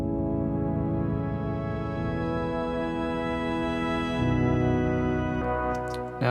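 A synthesizer keys patch plays sustained, harmonically rich chords with no talking. The notes change in a slow progression and a final chord moves higher near the end.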